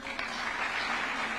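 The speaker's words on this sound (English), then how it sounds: "Another round of applause for Team Captain Julius Yego" Steady, fairly loud applause for Team Kenya during the State House flag handover, a brief continuous burst of clapping from an indoor crowd.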